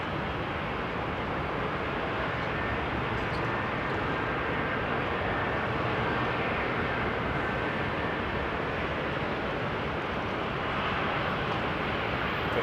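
Aircraft at London Heathrow Airport, a continuous broad roar of jet engines that holds steady at a moderate distance with no voices.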